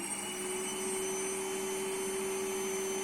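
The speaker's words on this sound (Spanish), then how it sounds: "La aspiradora." A household vacuum cleaner runs steadily throughout, a loud continuous motor drone with a strong steady hum and broadband airflow hiss, close and alone with no talking.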